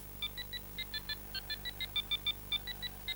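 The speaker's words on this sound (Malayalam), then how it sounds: "എന്താ ഫോണിന്റെ ശബ്ദമാണല്ലോ അത്" A quick run of short, high electronic beeps from a toy phone in an uneven rhythm, fairly faint against a quiet hum, with no talking.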